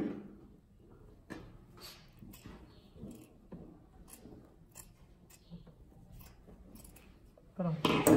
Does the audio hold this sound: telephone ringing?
no